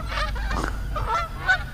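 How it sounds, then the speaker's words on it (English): Geese honk near a bass fishing boat, several loud nasal calls in quick bursts, close and clear over faint background noise. "Hello, geese."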